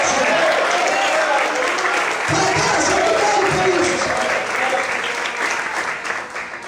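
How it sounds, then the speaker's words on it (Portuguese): Church congregation applauding during an evening service, loud continuous clapping mixed with voices and cheering, easing slightly toward the end. "Aplaude o Senhor nessa noite."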